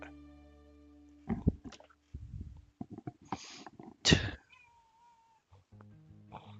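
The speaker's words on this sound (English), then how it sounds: "my cat's being a toot and wants to say hi to everyone" A house cat meows a few times up close, short nasal calls with sniffs and snuffles between them, while a steady electronic hum runs underneath.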